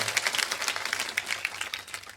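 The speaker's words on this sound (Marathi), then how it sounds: "दादासाठी एकदा सर्वांनी टाळी वाजवा" An audience claps for a pakhawaj player at a devotional music gathering, a dense, steady patter of many hands sustained throughout with no voices over it.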